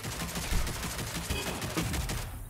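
Sniper and other gunfire in the Rogue Company video game, dense rapid shots and rattling fire that continue throughout under faint game ambience.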